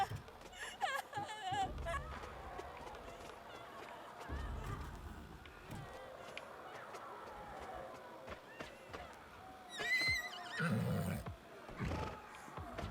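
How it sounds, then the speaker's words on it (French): A horse whinnies and snorts amid game sound effects and background voices, with a louder neigh near the end. "Un cheval."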